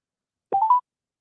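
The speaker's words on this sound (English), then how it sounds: "Okay, Rob, let's try one more time just to see, because again, I think he called from a burner phone." Telephone dialing tones on a phone line: a short, clean run of two or three touch-tone beeps in quick succession, alone against silence.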